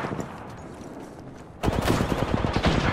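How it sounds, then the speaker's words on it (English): Gunfire in the video game Apex Legends: quieter ambience gives way to a loud, sustained volley of rapid automatic shots, close and continuous to the end. "Getting shot at."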